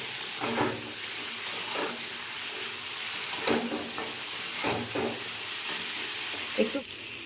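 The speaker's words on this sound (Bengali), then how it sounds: "তেলের মধ্যেই আমি সব সবজিগুলো দিয়ে দেবো। এখানে আছে উচ্ছে, রাঙা আলু আর আলু নিয়ে খুব সুন্দরভাবে এবার একটা ভেজে নেবো।" Bitter gourd, sweet potato and potato frying in hot oil give a loud, close, continuous sizzle, broken by repeated stirring scrapes that swell and fade every second or so.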